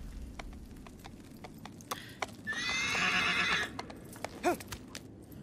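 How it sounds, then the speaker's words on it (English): A horse neighs loudly in the Shadow of the Colossus PS4 remake, a long whinny followed by a snort, amid scattered clip-clop hoofbeats and crisp footfalls over a soft background hiss. "But I guess this will be my character riding the horse right now, huh?"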